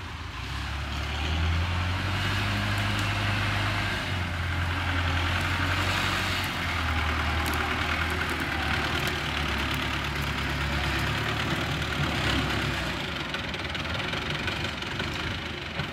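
A rebuilt MTZ 80 tractor engine with a black block runs while clearing land for rubber, a loud, close, knocking diesel rumble that holds steady throughout with no breaks.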